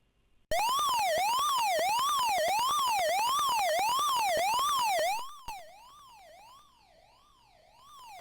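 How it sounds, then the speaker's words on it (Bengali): An electronic buzzer plays an ambulance siren pattern from an IoT lab setup, a loud, piercing, rising and falling wail that cycles steadily for several seconds, then cuts off abruptly and leaves faint, sporadic lower tones. "লাস্ট ওয়ান হলো অ্যাম্বুলেন্স সাউন্ড উইথ বাজার"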